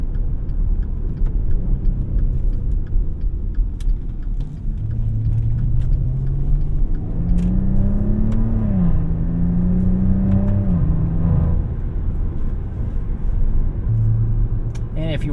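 A 2015 Maserati Ghibli S Q4 with a twin-turbo engine drives along, its engine rumbling steadily and rising in pitch through gears before settling, heard loud from inside the cabin.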